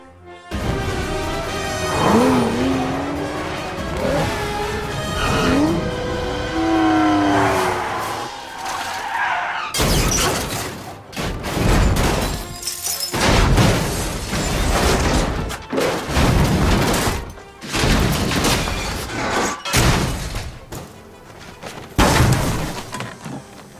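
Aston Martin DBS film stunt sequence with tyre squeals and skidding, then a series of heavy crashes and rolling impacts in bursts, loud and close, with no talk.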